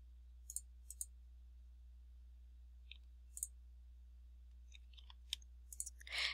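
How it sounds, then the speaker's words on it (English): Computer mouse clicks while the control key is held to select several items in a grade center: sparse, faint, sharp clicks spread irregularly over a low steady hum, with no talk. "I can click on one and then hold down my control key and click on each additional."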